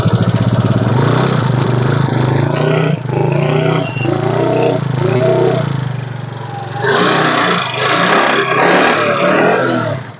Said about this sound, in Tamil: வண்டி வந்துங்க உங்களுக்கு இன்ஜின் செல்ஃப் ஸ்டார்ட் நல்லா இருக்குது